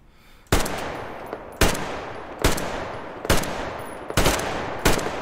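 Loud, sharp gunshots from a weapon in Metro Exodus, fired about once a second for six shots, each a sudden crack with a short decaying tail, heard alone with no voices.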